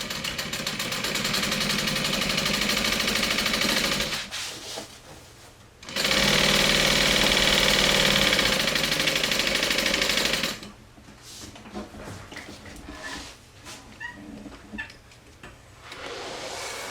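Sewing machine stitching a half-inch seam in two loud, steady runs of fast, even mechanical whirring, separated by pauses filled with quieter handling and clicks.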